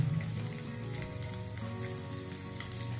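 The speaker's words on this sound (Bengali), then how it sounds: "চিকেনটা আমাদের ভাজা ভাজা হয়ে গেছে।" Chicken pieces fry in a pan as filling for momos, giving a steady, close sizzle with soft crackling and no speech.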